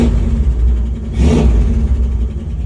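An engine being revved with the choke on during a test run, a rising burst of revving about midway over a steady mid-pitched idle rumble, fairly loud and close.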